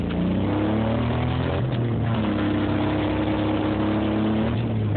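A truck engine revs hard in first gear, a loud, steady, mid-pitched drone with strained tones that climb and dip, and a brief shift in pitch partway through.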